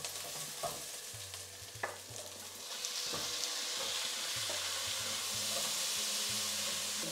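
Tomatoes drop into a pan of frying onions, ginger and garlic, with a few clanks and stirring knocks before the sizzle surges into a loud, steady hiss.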